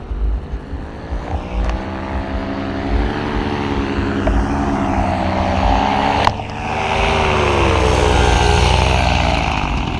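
Paramotor engine coming in to land, a steady loud propeller drone with shifting pitch throughout, close by and without speech over it.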